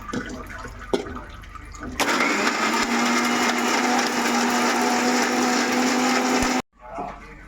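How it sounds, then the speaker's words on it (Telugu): A mixer grinder whirs loudly and steadily for several seconds grinding green chillies and masala with a little water into paste, then cuts off abruptly, with brief clatter before and after. "మిక్సీ పట్టేసుకోవచ్చు"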